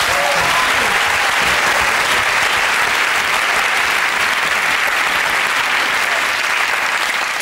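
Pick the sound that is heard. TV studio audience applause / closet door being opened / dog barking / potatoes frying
TV studio audience applause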